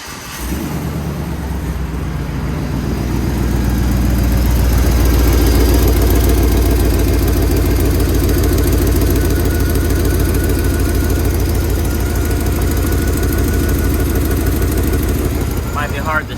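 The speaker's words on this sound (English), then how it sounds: "Now we're gonna wanna crank the vehicle." A car engine cranks and then settles into a steady idle during a misfire diagnostic check, the running note loud and continuous throughout, with some rough pulsing.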